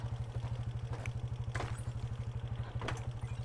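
A Hartford Mini 125 motorcycle engine chugs in a steady, rapid pulse while riding over rough rocks, with brief clatters of the footpegs scraping stone, continuous and fairly close throughout.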